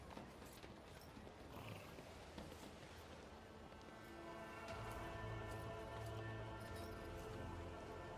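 A horse in the Warhammer 40k Rogue Trader video game, heard as soft hoof clip-clops and faint snorting amid a low game ambience, with a steadier tonal background swelling in during the latter half.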